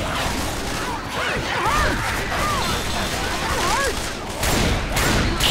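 Rapid bursts of gunfire from the Left 4 Dead 2 campaign The Sacrifice fill a dense, loud, continuous stretch, with overlapping shots and impacts and no clear pauses.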